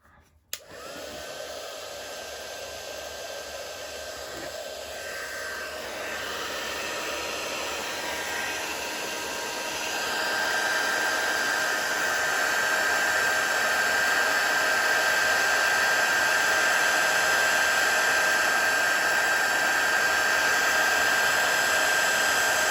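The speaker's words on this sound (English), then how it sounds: "Let me just heat set that. This is the last bit of heat setting we need to do." A heat tool runs steadily for over twenty seconds, heat setting an embossed stamped background with mica sparkle; a constant close blowing whoosh with a faint whine, alone and without talk.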